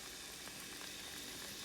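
Minced garlic sizzles in warm olive oil in a pan, a faint, steady, crackling hiss with no voices.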